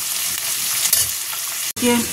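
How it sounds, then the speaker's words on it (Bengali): Onion and green chilli frying in a wok give a loud, close, continuous sizzle with stirring scrapes, a brief break near the end and a short clink as it resumes. "এবার কড়াতে একটা সবজি লঙ্কা দিয়ে পেঁয়াজটা দিয়ে দিয়েছি, একটু ভাজা হোক।"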